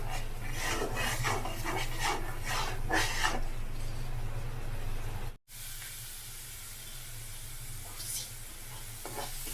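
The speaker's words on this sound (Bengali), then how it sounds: "মশলাটা ভালো করে এখন কষিয়ে নেব।" Masala spice paste fries in hot oil in a pan, a continuous close sizzle with repeated scraping stir strokes, cutting out briefly before the hissing resumes.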